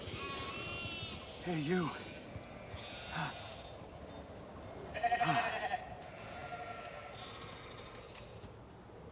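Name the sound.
sheep bleating in the video game The Alters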